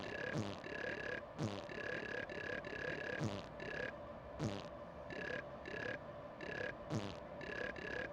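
A Grand Theft Auto character burps again and again from a button press, loud, close and rhythmic, with the belches coming roughly every second over a low in-game background.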